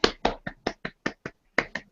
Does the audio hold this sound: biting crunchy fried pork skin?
no